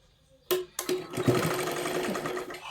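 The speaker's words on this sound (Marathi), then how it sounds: "आता इथे तुम्ही शिलाई मारू शकता" Sewing machine stitching blouse fabric starts abruptly after a brief pause, then runs as a steady, close mechanical whir with a rapid needle rhythm and a few small bumps in speed.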